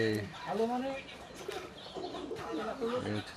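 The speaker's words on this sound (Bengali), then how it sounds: "এই হচ্ছে কবুতর জোড়া দেখেন অসাধারণ এক জোড়া কবুতর" Soft, low coos from Giribaz pigeons repeat a few times, close and fairly quiet, amid light background noise.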